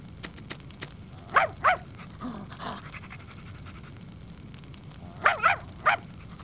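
A dog in the PS1 video game Tenchu: Birth of the Stealth Assassins gives two short pairs of sharp barks or yips, separated by a few seconds of quiet panting over low background ambience.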